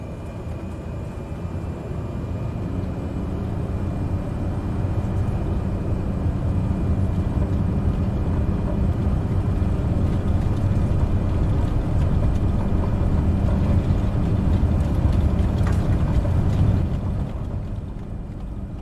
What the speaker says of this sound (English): Slowly apply takeoff power here.